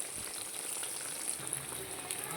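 Fish frying in a pan over a medium flame, a steady, soft sizzling hiss that runs evenly throughout with faint crackles and no talking.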